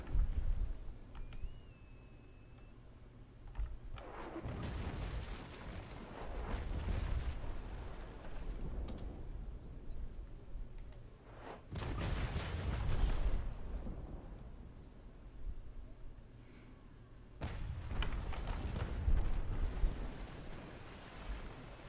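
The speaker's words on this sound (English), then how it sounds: "hit them with our port guns" Broadside of port cannons on a sailing warship in a naval battle, heard as three long rumbling bursts spaced several seconds apart, each rolling and fading over wind and sea noise.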